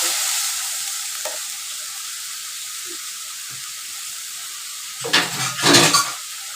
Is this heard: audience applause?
no